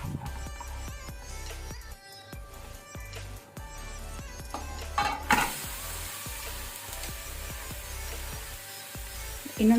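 A pineapple pancake fries in butter in a pan, giving a steady, close sizzle with occasional stirring or scraping clicks and no voices.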